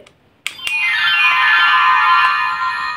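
A pressed toy telephone from a Barbie playset gives a sharp click, then plays a bright, steady electronic ringtone-like melody for a few seconds, loud and close, with no talking.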